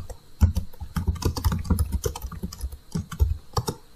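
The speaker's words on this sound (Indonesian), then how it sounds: "misalkan kita ketik judulnya." Someone types a title into Excel 2019 on a computer keyboard: quick, uneven runs of close, clicky keystrokes with short pauses, and no voices.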